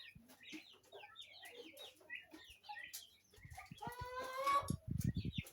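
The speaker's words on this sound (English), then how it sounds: "Those two bigger ones are Noella chickens." Noella and local cross chickens cluck softly in a mixed poultry yard, scattered short calls close by that build into louder, busier squawking toward the end.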